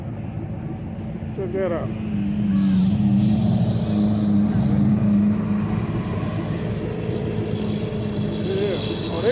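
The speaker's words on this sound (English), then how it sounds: "Y'all gonna get this yellow Lamborghini coming through here" A yellow Lamborghini rolls through a car show, its engine a steady, loud drone that swells mid-pass and holds, with people talking nearby over the running motor.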